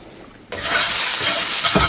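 Green onions sizzle in oil in a pan, the frying hiss jumping in suddenly and holding steady and close for a second or so.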